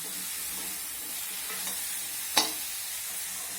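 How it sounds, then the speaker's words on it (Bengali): Snake gourd stir-fries in an uncovered pan with turmeric, a soft steady sizzle broken by one sharp scrape of a stirring spatula. "এইভাবে চিচিঙ্গাটাকে ভেজে নেব"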